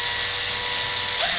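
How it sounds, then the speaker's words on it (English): Power drill boring holes in the side of a toy car door on a Majorette Toyota 4x4 die-cast model, heard as a loud, close, continuous high whine that holds steady throughout. "I drilling some holes in the sides of the door"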